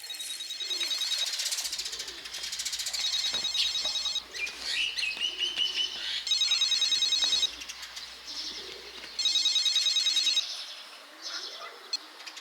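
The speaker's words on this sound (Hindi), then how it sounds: "धत तेरी की, ये फोन कितना बज रहा है?" A telephone ringtone plays in bursts, several repeated electronic rings separated by gaps, mixed with birds cooing and chirping nearby, with no talk over it.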